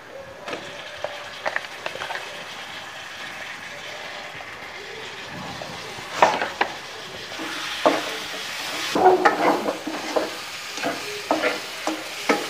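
Chicken browns in a pot for chicken daal mash, a low continuous sizzle broken by scattered clinks and scraping stirs that grow busier toward the end.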